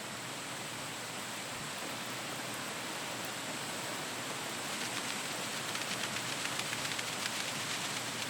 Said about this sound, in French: c'est probablement la dernière averse avant l'installation de la canicule